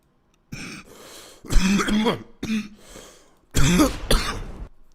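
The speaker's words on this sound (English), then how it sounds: "before I started coughing there" A man coughs and clears his throat several times in short, close bursts, with pauses between them and no speech.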